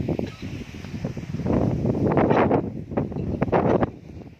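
Strong wind gusting across an open outdoor spot near a 330-step climb, a loud, sustained roar of buffeting noise that swells and surges in waves with a faint voice in the background.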